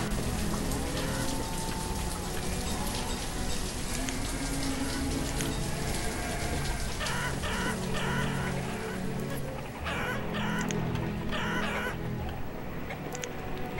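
Chickens cluck and honk at a coop in the village-building game Banished, heard as repeated fowl calls over a steady rain-like ambient wash that runs throughout.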